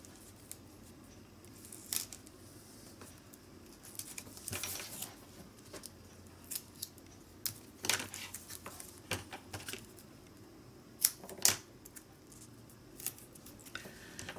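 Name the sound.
tape being pulled and applied to a card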